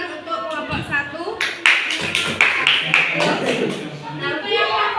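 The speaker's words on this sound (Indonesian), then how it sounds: "Tepuk tangan untuk kelompok 1." A classroom group claps for the first group after its presentation, a burst of sharp hand claps layered over ongoing talking.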